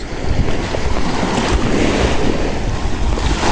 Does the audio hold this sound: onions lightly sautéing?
no